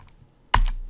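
A single sharp key press on a computer keyboard while typing numbers into a measurement field, close and clear after near silence.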